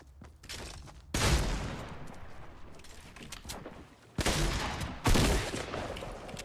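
Bursts of gunfire in the video game Fortnite, with quick rapid volleys starting and stopping between quieter gaps and one sharp extra burst near the end, loud and close over a low background.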